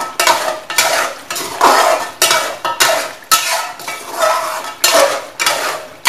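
Metal spoon scraping and clanking against a pot while beef karahi is stirred and fried in restaurant style, loud repeated strokes in a steady rhythm with a faint sizzle beneath.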